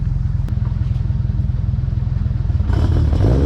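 A Toyota Aristo's 1JZ engine with a custom exhaust idles loud and throaty with a steady low rumble, then is blipped into a harsher, rising rev near the end.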